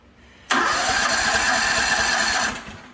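The engine of an AGT KTT23 snow blower starts abruptly and runs at a loud, steady buzzing idle for about two seconds before fading.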